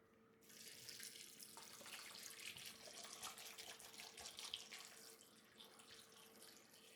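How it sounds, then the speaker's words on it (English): Distilled water poured into an Instant Pot for chicken bone broth, a steady splashing pour heard close up that starts abruptly, runs for several seconds and then thins out near the end. "We have here some distilled water and we're going to add some in"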